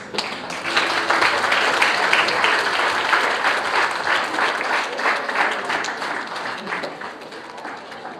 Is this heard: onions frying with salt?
no